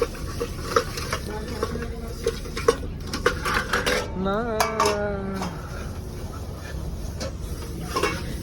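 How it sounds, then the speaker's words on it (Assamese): Dishes, plates and bowls being washed inside a truck cab, with clattering of metal plates and utensils knocking together, water and scrubbing noises, and brief faint speech in between. "এতিয়া মানে কাঁহী বাতি মই ধুম"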